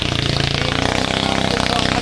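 The motor of a small foam boat revs hard and loud at close range, a steady, buzzing mechanical drone with a rapid pulsing beat and no pause.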